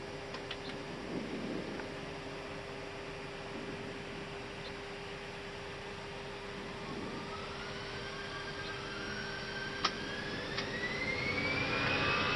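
Airliner jet engines spool up during takeoff from Funchal, Madeira, on runway 05, heard as a steady loud roar with a whine that rises in pitch toward the end, with no talk.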